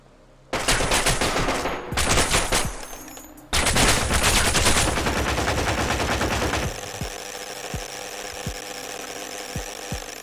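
Friendly gunfire rattles in loud automatic bursts during a dark player-versus-environment match in the video game Ground Branch, pausing briefly, then tapering to a low hum punctuated by a few sharp single shots, with no voices over it.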